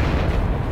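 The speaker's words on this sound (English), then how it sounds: "this gunshot is really loud" Loud, booming gunshot in the Minecraft Super Smash Mobs minigame, a single heavy blast filling the short moment with low rumble and no talk over it.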